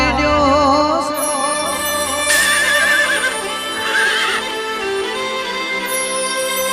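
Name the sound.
horse neighing and hoof clip-clop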